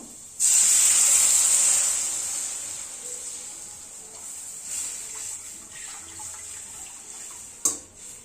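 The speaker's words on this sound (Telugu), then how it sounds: "ఒక గ్లాస్ రవ్వకి 1 గ్లాస్ పాలు, 4 గ్లాస్ నీళ్లు పోసుకుంటున్నాను" Milk and water poured into a pan of roasted semolina for upma set off a sudden loud hiss of steam that fades gradually over several seconds, with a short clank near the end.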